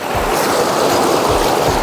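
A strong water current in a village stream rushes loudly and close, a dense, unbroken roar of churning flow with no voices.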